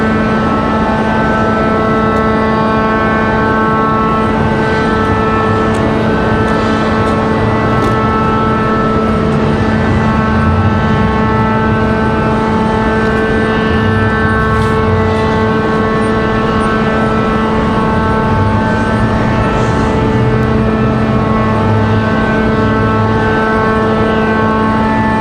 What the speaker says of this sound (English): So here comes our MAX 9 from Dulles.